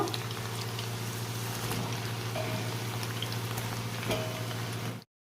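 Potatoes cut for French fries bubbling and frying in hot oil, a steady close, dense sizzle with a low boiling hum running evenly throughout, no voices.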